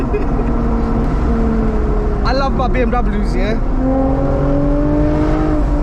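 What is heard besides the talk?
2008 Lexus IS250 V6 engine revving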